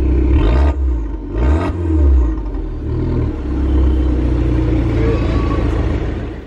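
A loud, deep Abarth 595 engine roar with a throaty rear exhaust rumble that swells and holds steady, close by, with a brief voice near the start.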